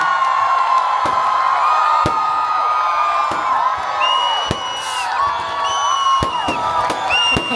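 A large festival crowd at a movie success celebration on stage at Karkala Utsava cheers, whoops and shouts in a loud, continuous roar, with sharp percussive bursts punctuating the din throughout.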